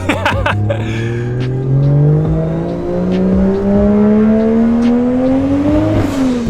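A car engine drones steadily from inside the cabin while driving, its pitch slowly rising as the vehicle speeds up, with a short shift or drop near the end and no talking.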